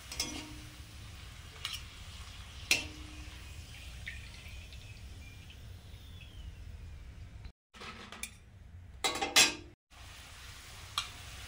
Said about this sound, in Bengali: সকালে একটু মুড়ি খাওয়ার জন্য পাঁপড় ভেজে নিচ্ছি